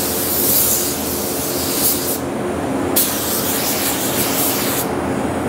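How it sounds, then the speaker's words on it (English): A spray gun lays waterborne base coat onto raw plastic with a loud, steady airy hiss. The spray cuts out briefly twice and then resumes, and no one talks over it. "because this is waterborne base coat, really, you just want to spray it pretty wet"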